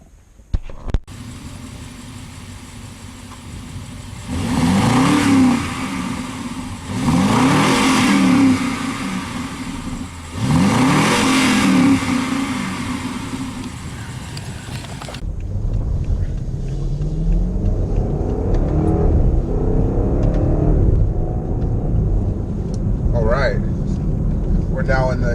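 A BMW X5 xDrive50i SUV, a 2016–17 F15 model, accelerates hard from the cabin, its engine swelling in three strong surges and then holding a steady rumble while a person talks throughout.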